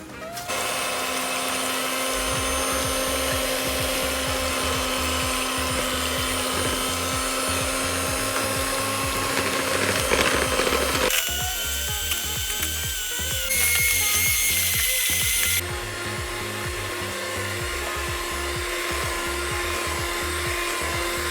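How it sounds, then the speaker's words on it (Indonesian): An electric hand mixer beats two whole eggs with granulated sugar for pukis batter, giving a loud, steady whirring drone that shifts pitch and speed partway through, with no talking. "2 butir telur ini akan saya mixer bersama dengan gula pasir"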